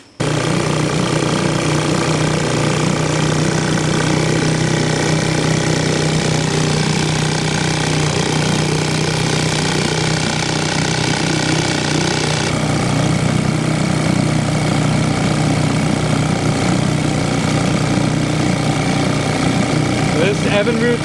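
A 1938 Evinrude Sportsman antique outboard motor runs continuously and loudly for about twenty seconds, a rough, buzzing, steady engine drone with rapid firing.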